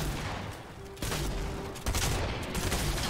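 Submachine gun fire in a battle royale shooter, rapid bursts of close gunshots in short rattling volleys over a busy game mix.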